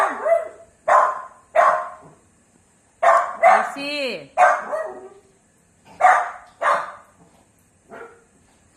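A dog barks repeatedly in short, sharp bursts, close by, with a few yips between them and a brief spoken remark.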